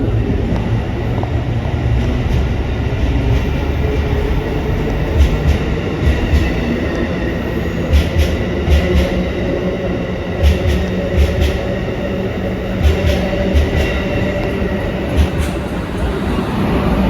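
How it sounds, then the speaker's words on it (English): An Amtrak train bound for New York City rolls through Wilmington station, with a loud, close rumble and rhythmic clicking of wheels over rail joints and occasional metallic squeals. "Here goes the train."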